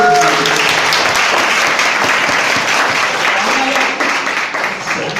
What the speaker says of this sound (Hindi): एक बार शशब सर के लिए आप लोग जोर से ताली बजा दीजिए